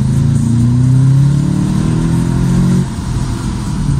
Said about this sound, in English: but to me it sounds like it's really coming from the engine